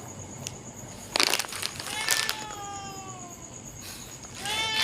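A stray cat meows several times up close, with short rising and falling calls mixed with crinkling and rustling noises nearby.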